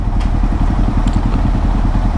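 Suzuki GSX-S750 motorcycle with a 750cc inline-four engine idling close by, giving a steady, loud rumble with a fast, even pulsing throb and no talk over it.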